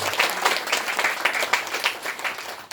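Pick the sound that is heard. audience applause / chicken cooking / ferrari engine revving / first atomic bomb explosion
audience applause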